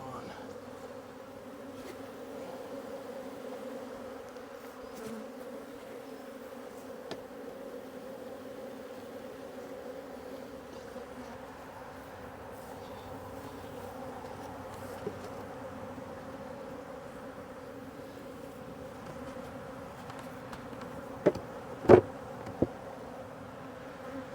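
A dense, steady drone of many agitated honeybees buzzing around a hive close by, continuous and busy, with a few brief louder clicks and knocks near the end.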